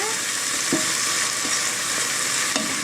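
A pot of turkey lentil soup ingredients, including onions, sizzles steadily as it is stirred, with occasional soft scrapes and knocks of the utensil over the constant frying hiss.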